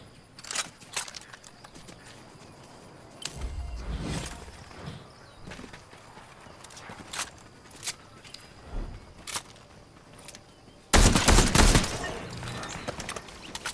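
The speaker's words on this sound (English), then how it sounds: "People shooting to the north." Gunfire in a Fortnite match: scattered sharp shots and short bursts, some distant and some close, with a loud dense volley near the end and occasional footsteps between them.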